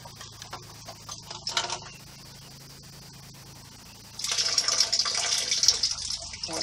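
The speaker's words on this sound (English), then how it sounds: "Hot water out of the jar" Hot water poured out of a glass canning jar during home canning of dry pinto beans, a faint trickle and splash at first, then a louder, steady gushing pour toward the end.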